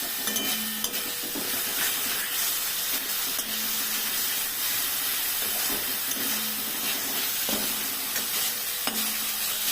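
Onion and coriander-leaf spice paste sautéing in a pan, a steady close sizzle and hiss with scraping stir strokes recurring throughout, no voices.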